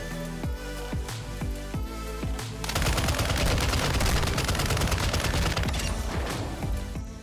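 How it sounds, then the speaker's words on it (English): A light machine gun in Warzone 2.0 fires a few spaced single shots, then unleashes a long, loud sustained burst of rapid automatic fire that fades out at the end. "I switch to my LMG and take out the nearest enemy, then take out the far enemy."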